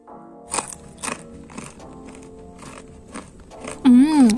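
Crunchy homemade Eid cookies are bitten into with several sharp, separate crunches spaced through a quiet room, close to the microphone, and a voice comes in at the end.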